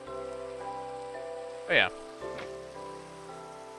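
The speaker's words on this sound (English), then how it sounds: "I like the rain" Steady rain falling in the game Minecraft, a continuous soft hiss under background music, briefly interrupted by a short spoken word and a small tonal blip.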